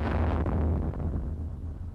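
A simulated bomb blast near an office set up for a wall-strengthening test produces a heavy, close boom that rolls into a deep rumble and fades slowly over two seconds.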